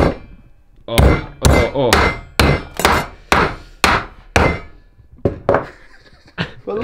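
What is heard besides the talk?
mounting a star nut in a dirt jump bike fork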